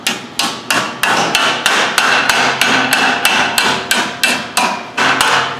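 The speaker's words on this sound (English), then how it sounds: "I'll just work my way down the edge with a hammer." A hammer drives the edge of a steel sheet into a bend against a steel table, with about a dozen sharp metallic strikes at a steady, even rhythm, each ringing briefly before the next, loud and close with no talk.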